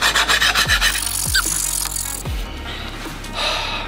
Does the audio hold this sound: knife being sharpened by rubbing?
yes